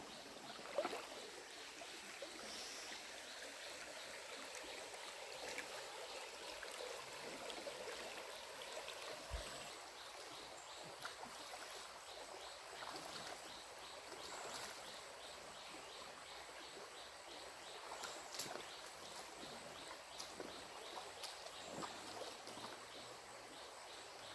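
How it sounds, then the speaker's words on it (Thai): A full-running stream at a campsite, its water shin- to knee-deep, babbles softly and continuously with a faint steady wash and occasional small splashes, without any talking. "ลำธารน้ำก็มาเยอะนะครับ"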